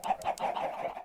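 Chickens in Minecraft clucking in a small coop, a few short clucks and squawks over about a second, close and fairly soft with no talk.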